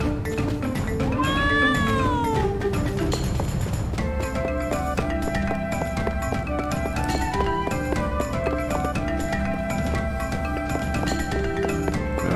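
In the video game Trials of Mana, a cat's rising-and-falling meow rings out early over continuous, busy background music that carries on steadily for the rest of the stretch.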